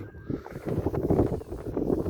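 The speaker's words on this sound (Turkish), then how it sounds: "Biraz rüzgar var. Rüzgar mahvetti." Steady wind buffeting outdoors by the water at Emirli village, Turkey, a broad rushing roar that swells and dips, with faint background clatter.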